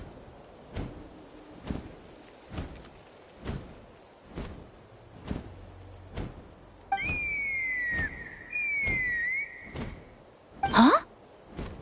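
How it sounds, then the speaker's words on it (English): Whistle blown to summon a Kukasaur in Genshin Impact: a shrill, sliding whistle tone rises and holds for a couple of seconds midway, over steady, evenly spaced heavy thuds that run throughout. "That sounded like a whistle. Is someone else trying to summon a Kukasaur?"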